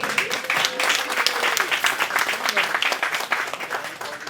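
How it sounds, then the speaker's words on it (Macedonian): Applause fills a restaurant, a dense and steady burst of clapping from an audience, close and sustained throughout without a break. "Еден аплауз за нив."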